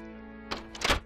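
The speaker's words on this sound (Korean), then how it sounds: "방금 그 소리는 문이 열리는 소리?" In a horror adventure game, a door opens with a pair of dull wooden thunks, the second louder and longer, set against a low, quiet ambient drone.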